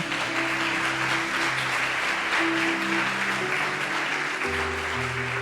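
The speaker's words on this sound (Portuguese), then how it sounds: "Quero uma salva de palmas" Worshippers at a church service applaud loudly and continuously while sustained organ or keyboard chords play beneath the dense wash of clapping.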